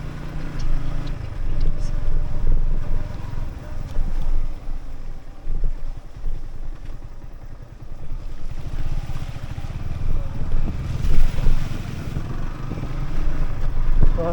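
A motorcycle rides off-road through a road flooded with muddy water, its engine drone low and steady under heavy splashing and wind buffeting the microphone, loud and close throughout.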